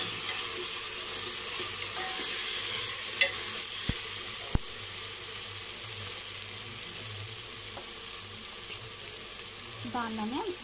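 Ginger garlic paste frying in a pan for a vegetable biryani made in a pressure cooker, a steady low sizzle with faint stirring scrapes and a couple of sharp clicks, heard alone throughout.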